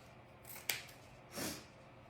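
Scissors snipping through a coiled strip of denim, two quiet, close cuts, a sharp crisp snip followed by a softer sliding cut, in an otherwise quiet room.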